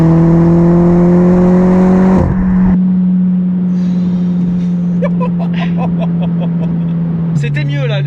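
A Peugeot RCZ R tuned to stage 3 accelerates hard in third gear, its engine a loud, steady, close droning roar that briefly dips at a shift and carries on, with someone talking over it.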